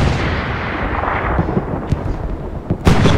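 Tank cannon fire and battlefield explosions in the World War II video game Hell Let Loose, a dense continuous rumble of combat punctuated by a few sharp, loud blasts, the heaviest near the end.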